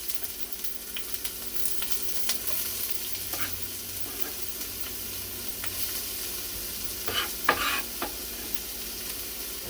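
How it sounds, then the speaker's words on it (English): Refried beans made from scratch sizzle steadily in a hot pan while being stirred, a continuous frying crackle with occasional louder scrapes and stirring bursts, close and fairly quiet, with no talking. "Hear that sizzle?"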